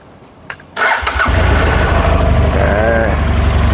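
A 2015 BMW F800GT motorcycle engine cranks and catches, then settles into a steady, loud, close idle with a low rumbling throb.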